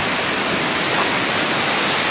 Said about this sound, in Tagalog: nandito na kami sa Tai Tai Falls, yung pinaka-favorite kong falls